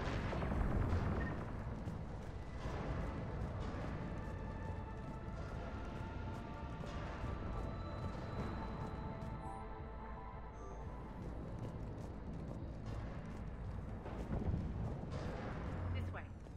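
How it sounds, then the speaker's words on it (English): Heavy cannon fire booms in the sci-fi game Mass Effect, with deep rumbling blasts and crackling impacts rolling continuously in the background, joined by a louder burst near the start and another near the end. "Those cannons have to be stopped."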